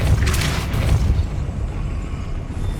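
The Depulso spell in Hogwarts Legacy goes off as a low, booming whoosh with a rumbling blast, loud and sustained for a moment before settling into a lingering low roar.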